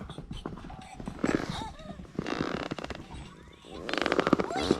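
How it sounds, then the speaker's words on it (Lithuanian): Horses running loose near a lake in Estrela National Park, Portugal, their hooves clip-clopping in irregular bursts at moderate distance, with brief louder patches of thudding. "Arkliai laksta."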